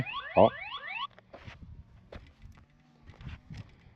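An ENGWE MAPFOUR N1 Air ST electric bike alarm blares a rising, warbling tone for about a second, then cuts off, followed by quieter shuffling and handling noises nearby.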